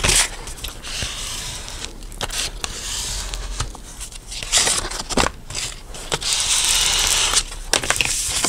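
Scissors trim a crooked edge off a junk journal folio cover made of paper or card, giving a run of crisp snips and rustling paper that stays close and fairly loud throughout, with no talking.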